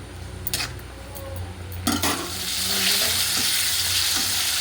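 Capsicum and pasta frying in oil in a pan on a home stove, a steady close sizzle that swells and holds, with a few brief stirring scrapes and utensil clinks early on and no talking.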